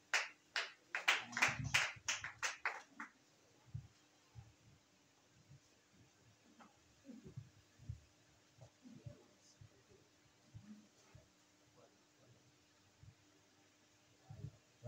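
Congregation applause in a church service acclaiming Jesus: a burst of loud clapping in the first three seconds, then scattered fainter taps and thumps with a steady hum underneath.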